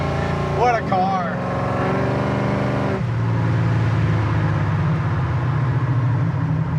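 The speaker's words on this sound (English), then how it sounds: "Just sitting here idling about 700 RPM." A 1968 Chevrolet Camaro SS 396 engine rumbles at a low, steady idle around 700 RPM, an even throbbing drone after some brief revving and shifting sounds at the start.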